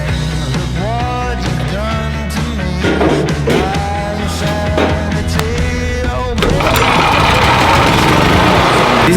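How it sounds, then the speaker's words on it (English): Portable generator running at a solar-powered homestead gives a steady, loud engine drone with harmonic hum throughout, and louder broadband noise joins in near the end. "This is going to be one of those rare cases where we have to use a generator."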